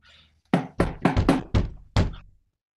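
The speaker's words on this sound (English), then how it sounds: "More knocking at the door." Knocking on a door in a staged reading of Shakespeare's Henry IV Part II: two quick raps, a brief pause, three close knocks, then one more single knock. The knocks are sharp and hollow, heard close up with no talking.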